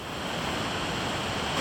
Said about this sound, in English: You can hear the falls from here, even though you're a little beyond them.